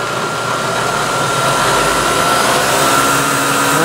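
Milling machine spindle running up to 3200 RPM with an 1/8-inch end mill for mild steel: a loud, steady motor whine with a thin rising tone, continuous and close with no talking.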